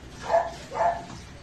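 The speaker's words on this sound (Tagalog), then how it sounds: "Ingay ng mga aso." Dogs barking twice, a couple of short moderately loud woofs with a pause between, heard at some distance in a home kitchen where lumpia filling is being mixed.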